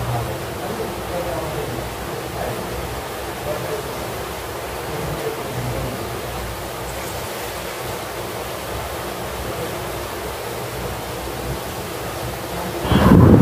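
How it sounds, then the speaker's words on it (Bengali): Heavy rain pours steadily outside during a dark power cut, a continuous broadband wash with low rumbling undertones, filling the whole stretch and swelling louder at the very end. "এখন কিন্তু আপনারা শুনতে পাচ্ছেন কি পরিমাণ বৃষ্টি বাইরে হচ্ছে,"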